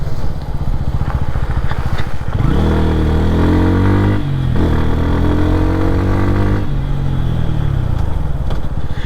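A Bajaj Pulsar N160 motorcycle engine runs loud and close, holding a steady throbbing beat that twice climbs into short rev rises before settling back, with no talking over it.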